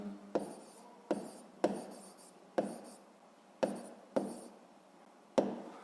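A pen or marker writes out a physics exercise solution in short repeated strokes, about seven bursts with brief gaps, close and fairly quiet, with no voices.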